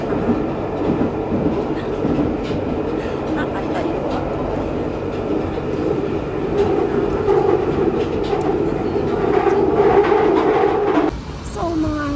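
Train ride in the UK, with a loud, continuous rumble and rhythmic clickety-clack of the carriage on the rails, a faint background voice now and then, and the noise cutting off sharply near the end.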